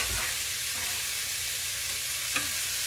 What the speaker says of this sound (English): now I'm going to put this onions in it. This is 3 big onions. I'm going to stir them around in there.